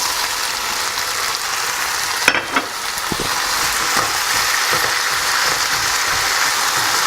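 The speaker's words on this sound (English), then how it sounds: "So that's been frying for a few minutes, and now I'm adding in the prawns." Prawns fry in a hot pan, making a loud, steady sizzle with a few sharper crackles and spatters as they go in, continuing evenly afterwards without any talk.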